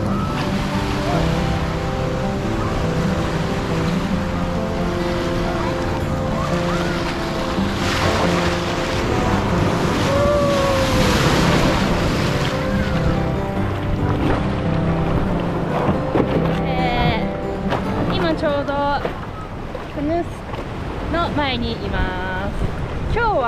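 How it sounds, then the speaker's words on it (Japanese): Ocean waves wash and surge around a canoe out surfing, with continuous splashing and wind, while voices talk and call out over the water later on. "波がある感じなんですけど"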